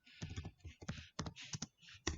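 Rapid, close clicks of computer keyboard keys typing C++ code come in irregular bursts, with short pauses between runs of keystrokes.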